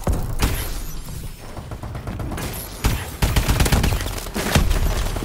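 Rapid bursts of automatic fire from the AE4 charged energy weapon in Call of Duty: Advanced Warfare, loud and close, with dense repeated shots and short gaps between bursts.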